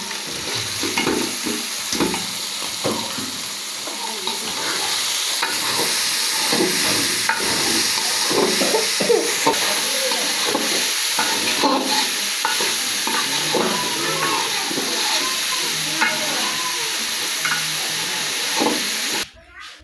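Onion leaves, carrot and beans fry in a hot pan while being stirred, a steady loud sizzle and hiss with repeated scraping stir strokes throughout, cutting off sharply at the end.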